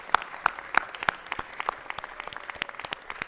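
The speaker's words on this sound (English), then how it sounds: "Give him a round of applause" Applause at a city council meeting for the longtime president of CBS Studio Center, with a few sharp nearby claps standing out over a steady crowd patter that thins slightly toward the end.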